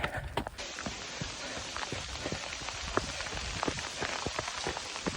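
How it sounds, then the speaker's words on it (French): Heavy rain pours down during a trail run, a dense steady hiss of drops with scattered sharper splashes and patters, close and continuous throughout with no talking. "C'est le déluge total."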